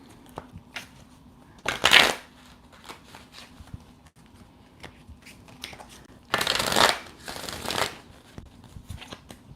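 Two bursts of cards being riffle-shuffled, one early and a longer double burst later, fairly close, with quiet pauses between.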